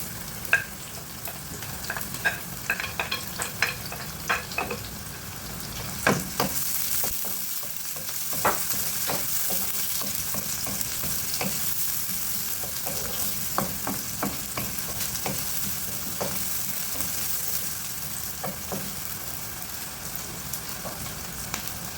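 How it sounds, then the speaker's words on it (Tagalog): Chopped onions sizzle steadily in hot oil for a spicy chicken Bicol Express, with repeated scraping stir strokes from a spoon in the pan, close and continuous, no voices. "ilagay na natin yung sibuyas"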